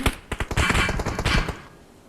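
Rapid bursts of close gunfire in the mobile battle-royale game PUBG Mobile, sharp cracking shots clustered over about a second and a half before trailing off into quieter game ambience.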